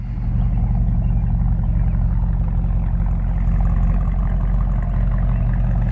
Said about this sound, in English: That nailhead engine just sounds excellent.